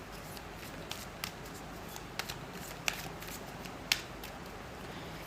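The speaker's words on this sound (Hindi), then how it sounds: "चलिए मैं अब आपके लिए यहाँ पर टैरो को शफल करती हूँ" Tarot cards are shuffled up close, a steady soft riffling with small sharp flicks and taps over a constant noisy background, and no one speaks.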